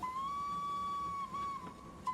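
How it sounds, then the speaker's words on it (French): A steam train whistle sounds at a level crossing, one sustained clear tone held for about two seconds with a brief dip, fairly distant over a low rumble. "Alfred, fous-y un coup de sifflet."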